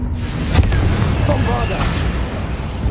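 Casting the Confringo fire spell in Hogwarts Legacy gives a sharp burst followed by a crackling, whooshing fiery rumble, loud and close, with game effects layered over a dense low rumble.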